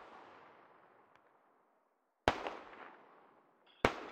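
Gunfire in the video game SquadOps: two sharp, loud reports cracking over a quiet background, each trailing off in a short echoing tail.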